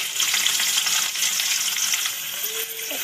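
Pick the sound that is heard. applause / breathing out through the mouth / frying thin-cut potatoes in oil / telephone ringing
frying thin-cut potatoes in oil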